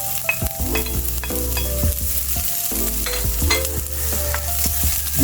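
Onion sautés in a hot pan with garlic for ginataang puso ng saging. The sizzle is loud and steady, and a spoon or spatula scrapes and clacks against the pan in irregular stirring strokes.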